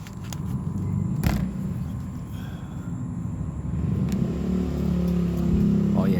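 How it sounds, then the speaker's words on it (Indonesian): A loud motorcycle rumbles past outdoors, its engine rising and falling in a rough low drone with a sharp transient near the start and a swell toward the end, nearby and unaccompanied by speech. "motor berisik."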